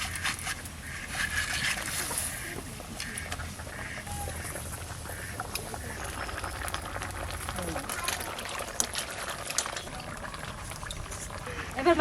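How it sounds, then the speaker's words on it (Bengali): Fish curry broth bubbling at a steady boil in a pan, a soft continuous simmering hiss with faint bubbling pops under quiet background noise. "ঝোলটা খুব সুন্দর জাল উঠে গেছে"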